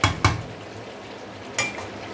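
A spoon or ladle knocks against a cooking pot while beef is stirred, with three sharp metallic clacks over a faint background hiss.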